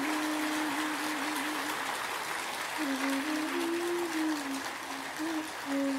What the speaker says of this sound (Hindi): एक बार सभी एक दूसरे के उत्साहवर्धन में तालियों की गड़गड़ाहट करें।